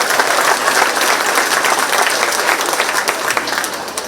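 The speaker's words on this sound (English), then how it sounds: "Let's give her another round of applause" An audience at the Shelby County Fair Queen contest applauds a contestant, with dense, steady clapping from a full crowd that stays loud for the whole stretch and tapers only slightly near the end.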